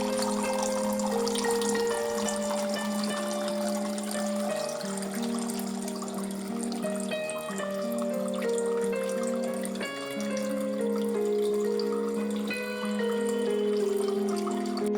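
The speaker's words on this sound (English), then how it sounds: "It's like filling the bottle with water." Water running steadily into a plastic bottle, with a rising pitch as the bottle fills, heard close and continuous for about fifteen seconds with no talking.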